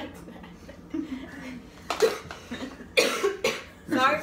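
A sick person coughs several times in sharp, separate bursts while trying Mexican candy, the coughs loud and close with brief pauses between, mixed with faint voices and chuckling.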